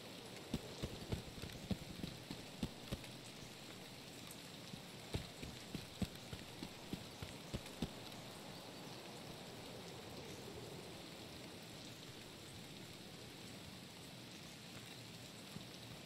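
Steady broadband rain falling throughout an Escape from Tarkov game level in the early morning, a constant dense hiss with a few sharp clicks and taps scattered through the first half; no voices.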